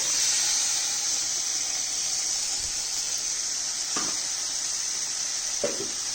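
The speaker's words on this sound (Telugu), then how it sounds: "ఇప్పుడు దీంట్లో నానబెట్టిన చికెన్ దీంట్లో వేసేసుకున్నాను." Soaked chicken sizzles in a hot pan with a loud, steady hissing spatter that holds throughout, broken by a couple of faint utensil knocks.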